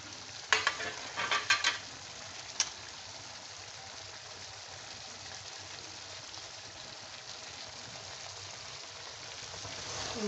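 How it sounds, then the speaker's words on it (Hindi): Ground garam masala, cumin and dried coriander are stirred into karahi gosht frying in a pan, with a few quick scraping strokes early on, then a steady soft sizzle continuing alone. "मसालों को अच्छी तरह मैं मिक्स करूँगी।"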